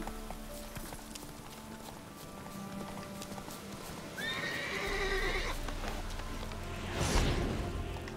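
A horse in The Witcher 3 video game whinnies clearly over low ambient game sound, followed shortly by a loud close whoosh-like snort or hoof burst; faint background clip-clop is present.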